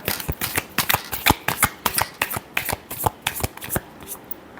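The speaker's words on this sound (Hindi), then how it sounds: "last shuffle" Tarot cards being shuffled by hand in quick, crisp riffling bursts, about two dozen rapid slaps in a steady rhythm, close and clear with no talking.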